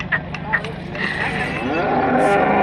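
Gavran and Khillar bullocks at a busy cattle market, with low, drawn-out lowing or bellowing rising over a steady crowd murmur of people talking nearby.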